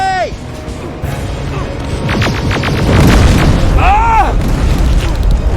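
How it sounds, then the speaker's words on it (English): Rocket explosions in the game Terminator Resistance boom heavily in a loud, rumbling sequence with whooshing and crackling debris, building into a dense roar as a voice speaks over it. "Rockets! They're heading this way!"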